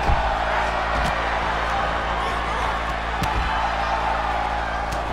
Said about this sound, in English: This crowd coming alive.